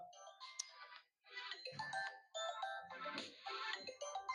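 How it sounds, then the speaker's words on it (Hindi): Phone ringtone chiming in a repeating melodic pattern with short gaps, fairly loud and alone during a Class 12 chemistry lesson. "फोन आ गया"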